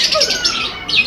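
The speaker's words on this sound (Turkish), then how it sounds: "bir sürü kuş" Several birds squawk loudly and shrilly at a zoo in Darıca, a dense overlapping chorus of harsh calls close by with no talking.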